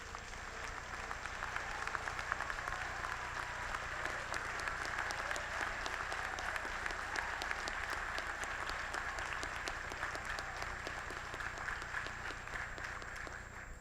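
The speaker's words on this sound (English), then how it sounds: "They do deserve a round of applause." An audience at a doctoral commencement ceremony applauds the standing degree candidates, with sustained, dense clapping from a large crowd that holds steady for the whole stretch.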